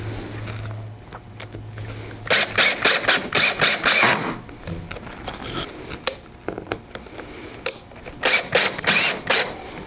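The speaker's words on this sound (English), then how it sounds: "And now I can just drive my screws in." Screws driven into a wooden template for an axe handle stool, heard as two loud bursts of rapid ratcheting clicks from a drill with a quieter clattering gap between them, close and with no talk.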